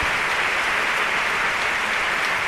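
Warm, sustained applause from a large audience in Seville during the Holy Week proclamation, a dense, steady wash of clapping filling the hall at even loudness throughout.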